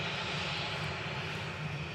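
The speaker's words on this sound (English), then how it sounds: "Just coming from Malaga, 737-800, 9HQFN, flight 3233," Malta Air Boeing 737-800 arriving at Manchester Airport from Malaga, a brief, fairly quiet, steady engine drone with a low hum and hiss and no speech.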